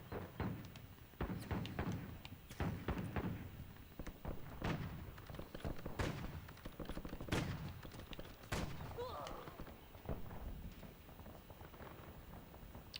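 Gunfire from a rooftop shooter in Call of Duty Warzone rings out in scattered single shots and short bursts, fairly distant and uneven, with quiet moments in between.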